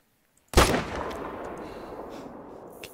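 A single sharp rifle shot in the hunting game theHunter, fired at a pronghorn on Silver Ridge Peaks, cracks loudly and then echoes away in a long rolling tail across open terrain.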